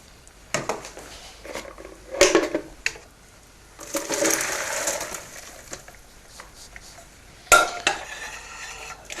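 Cooked carrots being drained from a pot for Vichy-style carrots: clattering pot and metal knocks, bursts of pouring water and splashing around the middle, then a sharp clank near the end, fairly close with no talk.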